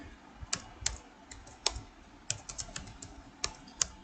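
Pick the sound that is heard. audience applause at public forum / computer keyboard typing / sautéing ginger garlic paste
computer keyboard typing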